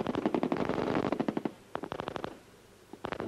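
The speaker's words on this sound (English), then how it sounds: "Machine guns and SLRs in a clattering broadside." Machine guns and SLR rifles fire together aboard a ship heading to the Falklands, a rapid clattering burst that thins into scattered shots, pauses, then resumes, heard from some distance.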